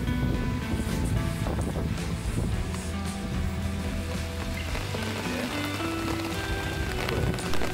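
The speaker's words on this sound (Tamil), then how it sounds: "மழை ஆல்ரெடி கொஞ்சம் துளிச்சிட்ருக்கு, இன்னும் போக போக அதிகமாயிரும்." Wind-driven rain falls steadily and close by outdoors, with a dense continuous patter and a gusty rush that stays loud throughout, blended with a low rumbling hum.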